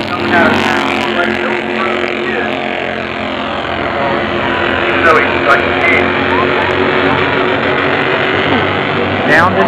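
Bandolero race cars circling a short oval track late in a race, engines droning steadily and loudly throughout, with a few brief higher whines passing, under continuous race commentary.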